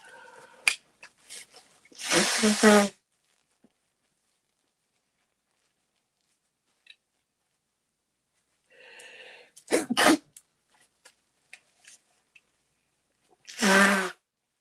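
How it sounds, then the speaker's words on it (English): Three separate sneezes ring out close by, spaced several seconds apart with near silence between them and a few small clicks and breaths. "Why have I started sneezing all of a sudden?"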